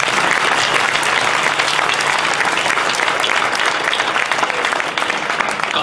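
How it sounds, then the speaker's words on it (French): Loud, sustained audience applause at an academic innovation final, a dense wash of clapping from a sizable crowd that continues evenly throughout. "que je vous propose d'applaudir"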